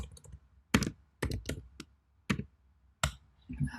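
Bursts of quick clicks from a computer keyboard being typed on, several short clusters of keystrokes separated by brief pauses, close and moderately quiet with no one talking.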